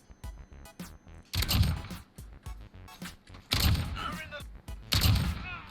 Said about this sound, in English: Wait, he's using a shotgun.